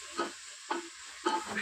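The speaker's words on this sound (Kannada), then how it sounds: "ಟೊಮೊಟೊ ಸಹ ಇದ್ರ ಜೊತೆ ಚೆನ್ನಾಗಿ ಫ್ರೈ ಆಗಿದೆ." Tomato and vegetables fry in a pan for paneer pulao, with a soft, steady sizzle broken by three quiet stirring scrapes at close range.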